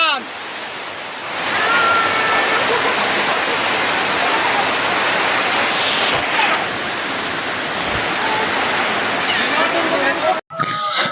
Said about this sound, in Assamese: এয়া চাওক পুৰা ধাৰাসাৰ বৰষুণ পৰি আছে